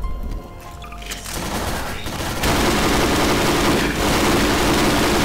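Dense gunfire in Garry's Mod rattles on continuously, building from scattered shots into a loud, sustained fusillade with heavy booming low end.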